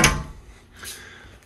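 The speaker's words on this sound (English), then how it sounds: "Let me shut the door here." A cedar sauna door in a custom basement build swings shut with a single close thud at the start, followed by a softer secondary knock or latch sound, close and fairly quiet.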